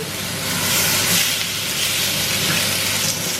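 Steak hisses loudly in a hot pan, a dense continuous sizzle with steam-like hiss holding steady throughout.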